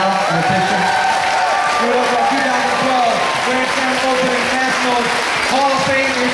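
Sustained crowd applause with some cheering greets Hall of Fame inductees at a Grand Slam Open Nationals event, while a voice talks over the clapping.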